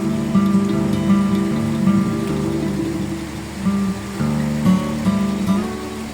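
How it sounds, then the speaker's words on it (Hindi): Rain falls steadily on a balcony in Switzerland, a close, continuous patter with faint tonal sounds in the background and no speech. "और आज बारिश हुई तो बहुत अच्छा लगा।"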